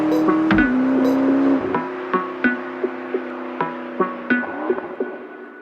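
A McLaren MP4-12C's sports exhaust: the engine idles, then revs in a series of sharp blips, each crackling exhaust burst fading back to a low, throaty rumble.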